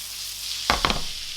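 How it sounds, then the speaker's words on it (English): Butter melts in a frying pan with leftover sauce, giving a steady soft sizzle throughout, broken by two quick louder scraping stirs near the end. "now it's time to grab the rest of the butter. And we'll just melt that in the residual sauce"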